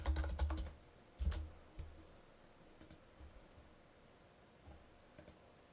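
Typing on a computer keyboard: a quick burst of clustered key clicks, then scattered single taps and short runs of keystrokes, close and quiet, with no talking.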